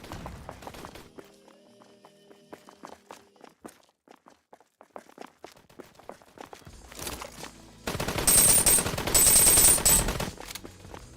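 Rapid bursts of video game gunfire in a looter shooter erupt loud and dense near the end, after scattered softer shots and clicks with no talking.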